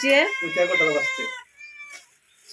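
A cat meows loudly up close in drawn-out, wavering cries, followed by a softer, shorter meow after a brief pause.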